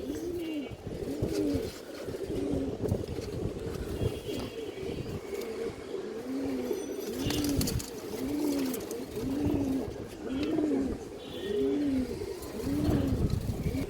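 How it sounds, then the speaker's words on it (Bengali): A female Tota-type pigeon of an old breed coos over and over in a steady rhythm, close and clear, with no voices. "এই দেখেন তোতা সেবের একটা মাদি কবুতর"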